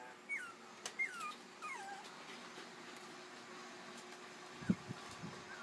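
Puppies whimpering softly at bedtime, several thin descending squeals near the start followed by quieter scattered whines and a soft thump, faint against a low steady room hum.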